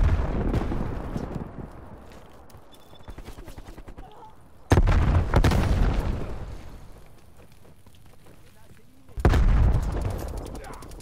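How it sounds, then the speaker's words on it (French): A frag grenade goes off in Call of Duty Black Ops Cold War, with two loud, sharp blasts and decaying rumble amid scattered gunfire and game sounds, all close and dominant. "Je lance une frag."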